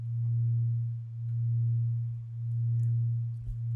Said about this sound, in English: we got our bass sound.